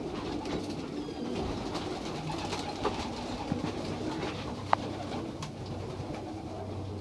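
Racing pigeons, all Fabry birds of an old-bird race team, cooing softly and steadily inside a loft, with faint rustling and a low background rumble throughout.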